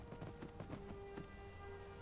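Horse hooves clip-clopping in the video game Skyrim, an even, steady run of hoofbeats at a walking pace, heard alone at moderate level without talk.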